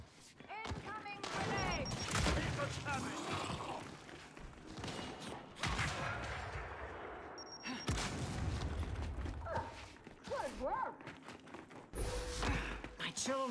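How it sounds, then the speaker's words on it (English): Sniper rifle shots ring out in a Gears 5 King of the Hill match, several sharp cracks spread across the stretch amid game noise, with players talking over them. "Sniper fire."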